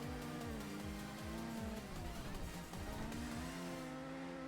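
A Mazda Miata and an Evo racing side by side in a sim racing game, engines revving loudly and continuously with rapid gear-shift drops, tire squeal mixed into the steady engine roar.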